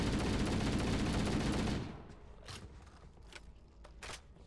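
Dense, loud gunfire from Halo: Combat Evolved fills the opening seconds as a continuous roar, then drops to a few scattered, fainter bursts and clicks.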